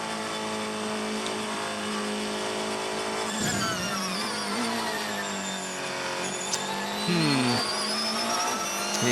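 Race cars at the 2016 6 Hours of Fuji, an FIA WEC endurance race, roar past under braking and accelerating, their engine notes sweeping up and down in pitch with a loud, steady drone and brief tire noise.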